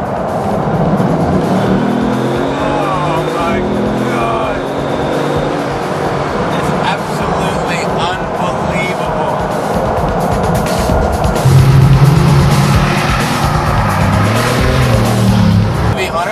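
A 2008 Bugatti Veyron accelerates hard from inside the cabin, a loud rising engine roar with road and wind rush that builds toward the end, a voice talking over it at the start.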